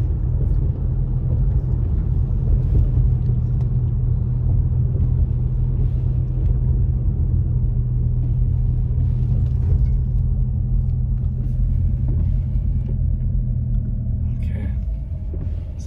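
A car drives through a snowy mountain neighborhood in Big Bear with a steady low engine and road rumble throughout, close and continuous, with faint talk over it near the end.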